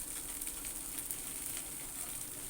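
Wheat rava dosa crisping in a little oil on a hot pan, a steady close hiss and sizzle with no talking.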